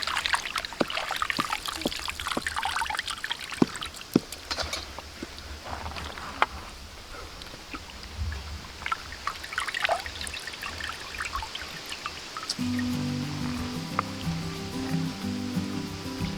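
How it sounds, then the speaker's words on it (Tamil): Water trickling and splashing as chicken is washed for a chicken pasta dish, soft and continuous with faint handling noises close by. "சிக்கனை நல்லா கழுவி எடுத்து வச்சுக்கோ."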